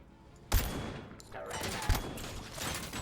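Gunfire in the Robocop Rogue City video game: two loud, heavy shots about a second and a half apart, each followed by a long rumbling, crackling tail of explosive noise that fills the clip.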